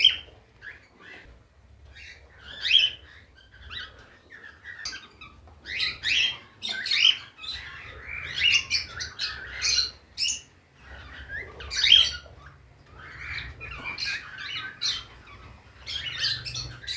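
Healthy, active cockatiel breeder pair ready to breed, calling steadily with bright chirps, squawks and whistles repeating throughout, fairly close, over a faint low hum and no talk.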